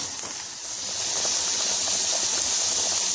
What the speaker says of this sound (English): the big pot here, which is boiling away